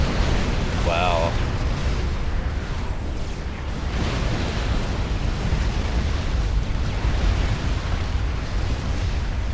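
Explosions in Supreme Commander: Forged Alliance as two T3 artillery units are destroyed, heard as a loud, dense, continuous roar of rumbling blasts and battle noise that holds steady throughout, with a brief tonal blip near the start.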